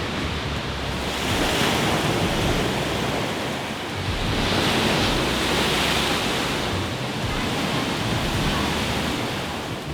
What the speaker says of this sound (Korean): 잠시 바닷소리 좀 듣고 가겠습니다